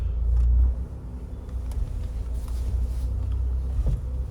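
A car rolls along the road with a steady low engine rumble and road noise, heavier at first, then holding an even drone throughout.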